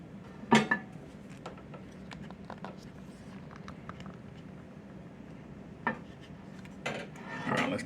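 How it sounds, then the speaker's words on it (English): A hot cast iron skillet with garlic butter is shifted on the stove, giving a sharp metallic clank, light scraping and rattles, then two more clanks near the end against a low background. "let's get this hot skillet over here a little closer"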